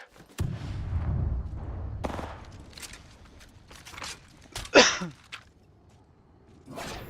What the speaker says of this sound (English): Contact with hostile. Thermite grenade sent.